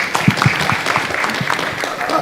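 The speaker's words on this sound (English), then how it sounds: "Another round of applause for Professor Mary for the good work done." Audience applause at a Kenyan national research festival session, a steady clapping crowd with a voice speaking over it.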